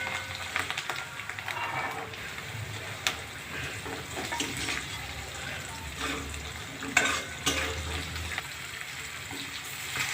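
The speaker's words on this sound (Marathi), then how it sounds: "चला आपले वटाणे पण तळून झालेले आहे" Green peas frying with spices in a pan, a continuous soft sizzle broken by scattered scrapes and clinks of stirring, fairly quiet and with no talking.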